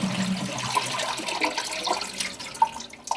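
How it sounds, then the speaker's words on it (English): Toilet flush gurgling as air travels up the pipe at the end of the flush, a close watery churn with bubbling, trickling and a few sharp drips, no voices. "So now you know that that noise is the sound of air travelling up the pipe to stop the flush."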